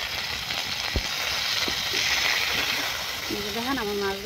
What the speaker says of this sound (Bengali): আমার মাছ ভাজা প্রায় শেষ হয়ে গেছে।